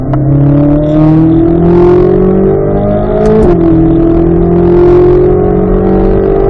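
A car engine revs hard and climbs steadily in pitch, dips sharply at a gear change around the midpoint, then pulls again. The loud, continuous drone sits close and runs throughout with no voices.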